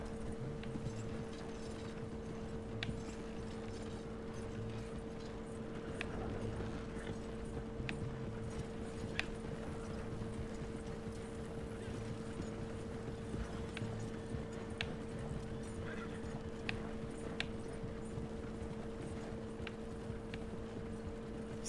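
Horses' hooves clip-clop faintly in a steady, even rhythm over a constant low hum, the soft clicks continuing for about twenty seconds without any voices.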